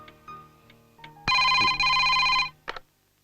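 A telephone rings loudly in a Malayalam film scene: a long, steady electronic ring cuts in abruptly, pauses briefly, continues, then gives a short final burst, with no one talking.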